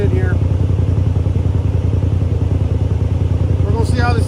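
Motorcycle fitted with an Evo low engagement clutch kit idles steadily just outside a shop, a loud, close, even engine rumble with a slight rise in revs near the end.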